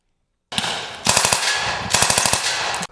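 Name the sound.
gunfire during ROTC training exercise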